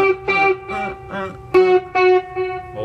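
Electric guitar played through an echo effect in the style of U2's The Edge, with a quick run of picked notes in a repeating pattern whose delayed repeats ring and blend together, clear and close.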